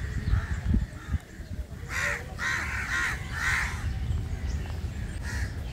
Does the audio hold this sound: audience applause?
no